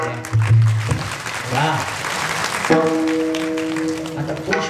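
Women in the audience of a Marathi devotional kirtan clap together, a steady patter of many hands under a speaker's voice, with a sustained musical drone entering partway through.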